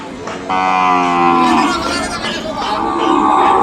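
Cattle moo loudly and long at a Sunday bull market in Kodad, Telangana, with drawn-out lowing calls rising over steady crowd and market background noise.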